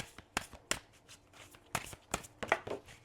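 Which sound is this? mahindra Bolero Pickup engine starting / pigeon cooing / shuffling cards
shuffling cards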